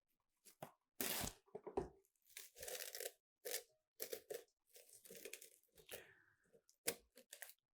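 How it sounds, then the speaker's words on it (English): Plastic wrap is pulled, torn and pressed over a mixing bowl holding bread dough: close, sharp crinkling and tearing bursts separated by short silences. "And then a little piece of plastic wrap"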